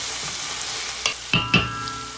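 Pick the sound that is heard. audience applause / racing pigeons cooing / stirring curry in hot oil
stirring curry in hot oil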